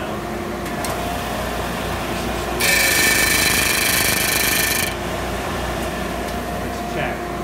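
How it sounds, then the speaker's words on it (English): A bone piece for the bridge of a 1963 Gibson LG-1 acoustic guitar is power-sanded in a shop, giving a loud, steady abrasive whir of about two seconds over a constant background machine hum. "And now I'm going to sand that down."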